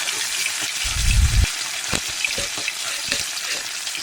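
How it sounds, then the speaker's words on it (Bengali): Bata fish frying in hot white oil in a wok, a steady broadband hiss and crackle throughout, with a louder low splash-like burst early on and a few sharp pops scattered after. "বাটা মাছগুলি উল্টি পাল্টি লাল করে ভেজে নেব"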